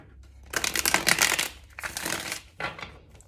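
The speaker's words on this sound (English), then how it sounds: "And one last shuffle." A deck of tarot cards is shuffled in a few rapid riffling bursts, close and fairly quiet, with short pauses between them.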